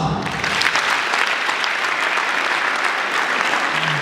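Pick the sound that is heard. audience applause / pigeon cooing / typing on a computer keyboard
audience applause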